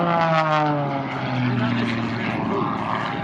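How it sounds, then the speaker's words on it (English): Extra 300 aerobatic plane at an airshow display, its propeller engine droning loudly and rising in pitch as it accelerates, fairly close and steady throughout. "the throttle comes up and accelerates as he makes his way to another turnaround"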